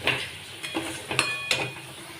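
Ground cumin, coriander and turmeric fry in a pan for a prawn curry, with a few sharp spatula clinks and scrapes over a soft, steady sizzle, close and brief, with no talk.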